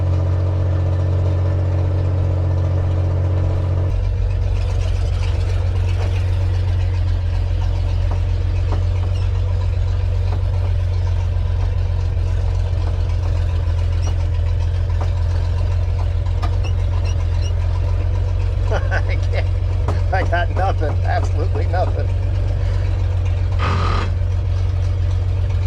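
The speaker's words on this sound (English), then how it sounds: "The V6 sound is really cool on this truck, but it's got to have some exhaust" A 1968 GMC C2500 pickup's V6 running with no exhaust, a loud, continuous low rumble with a steady drone that holds throughout, heard close up and without talk.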